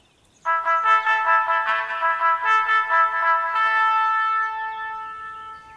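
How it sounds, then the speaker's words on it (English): Bells chime over a loudspeaker as a dinner call at a camp in a video game: a bright, ringing run of bell tones that starts abruptly, rings on in a clear pattern and fades into a long resonant tail. "My thoughts were interrupted by the sound of bells chiming up the speaker on the microphone."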